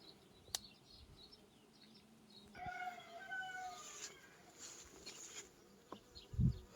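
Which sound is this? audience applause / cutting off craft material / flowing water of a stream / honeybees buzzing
honeybees buzzing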